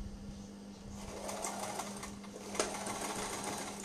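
Sewing machine running steadily to stitch the tapered seam of a baby frock, a close, continuous mechanical whir with a steady hum underneath and no talking.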